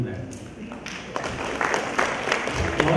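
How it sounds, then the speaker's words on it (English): Audience applause at a live-streamed IIT Kanpur event, a moderate wash of clapping that builds slightly over three seconds. "I must ask audience to give him a big round of applause"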